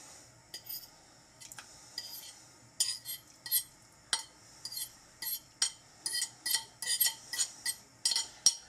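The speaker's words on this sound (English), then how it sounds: "Sorry for the screeching noise, I can't help that with plates" Plates scraping and clinking against one another in a kitchen while ginger beer is being made, a series of sharp, bright screeches that grow more frequent and louder toward the end, heard close up.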